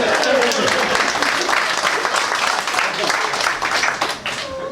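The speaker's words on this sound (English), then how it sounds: "Round of applause for Noel." A comedy club crowd breaks into loud clapping, a dense burst that gradually thins and tapers off, with voices talking and a few shouts mixed in.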